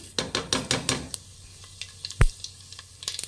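Whole spices, including cardamom, cloves and fennel, fry in a pot for chicken biryani, giving a light sizzle with quick scraping stirs at first, then sparse clinks and one sharp knock of a utensil against the pan.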